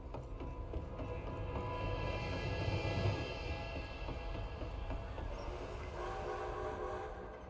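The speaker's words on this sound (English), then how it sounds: "A train!" A steam train approaches in the Red Dead Redemption 2 video game, a loud, steady rumble of rolling rail noise with tonal whistle-like horn tones layered over it, sustained throughout.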